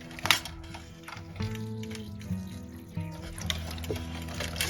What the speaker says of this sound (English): I'll water that one underneath.